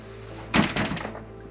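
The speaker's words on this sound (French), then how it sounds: "La porte est fermée." A door fitted with an opening sensor swings shut with a single solid thunk followed by a short rattle as it settles, against a quiet room with a faint electrical hum.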